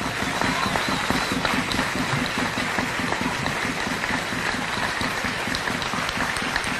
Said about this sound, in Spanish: Y yo voy a pedir aquí un aplauso por la libertad de Alfredo Ramos.